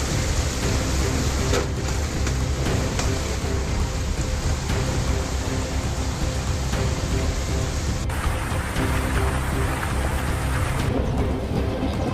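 Heavy rain falls steadily during a severe storm in Oklahoma, making a dense, loud, continuous roar of drops on surfaces. A deep low rumble runs underneath, and no one speaks.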